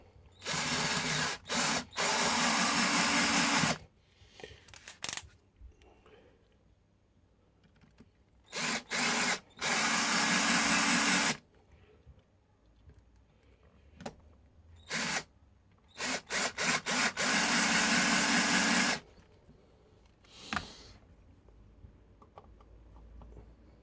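Power drill driving screws into the body of a fretless headless bass, several loud whirring bursts of varying length separated by quiet gaps, close up.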